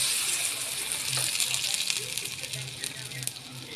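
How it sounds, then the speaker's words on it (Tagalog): Water goes into a hot frying pan of browned pork for Visayan lumo, giving a bright hissing sizzle with crackles and bubbling that holds steady, heard close up throughout. "Then lagyan natin ng tubig."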